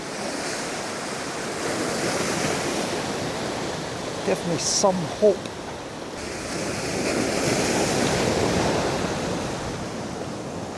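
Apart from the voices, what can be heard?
ocean waves and surf on the coast of Brittany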